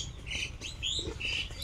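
Baby chicken chicks chirping nearby, several short high-pitched peeps in quick succession over a low background hum, faint but distinct, with nobody speaking.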